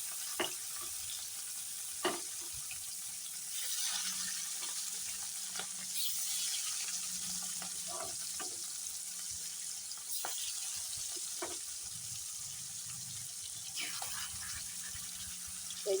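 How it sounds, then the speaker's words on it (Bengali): Bata and rui fish frying in hot oil in a wok give a steady, soft sizzle throughout, with occasional clinks and scrapes of cooking utensils and faint talk in the background. "এখন তো কড়াইতে তেল গরম হয়ে গেছে এই তেল দিয়ে দিই মাছগুলো ছেড়ে দিই তেলে"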